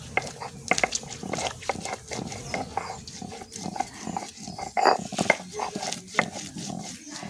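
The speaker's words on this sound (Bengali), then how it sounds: "এবার আমি কাঁচা লঙ্কাগুলো বেটে নেব।" Green chillies being ground on a traditional grinding stone, with a rough, repeated scraping and grinding rhythm of stone on stone, close and moderately loud, with irregular knocks throughout.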